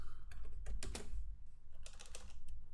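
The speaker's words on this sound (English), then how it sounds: "I'm just going to type window dot, let's say I'm going to use open." Rapid keystrokes on a computer keyboard as JavaScript code is entered in a browser console, a steady run of close, crisp clicks with a few louder taps, no voices.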